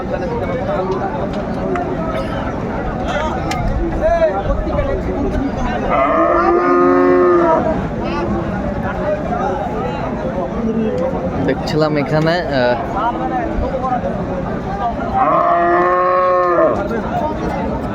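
Sahiwal bulls give two long, loud moos at a busy cattle market in Ambari, Dinajpur, while people talk and a crowd murmurs steadily around them.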